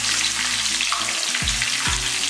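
Curry leaves and crushed garlic frying in hot oil, a loud close hiss and sizzle that holds steady through the whole short stretch, with no speech.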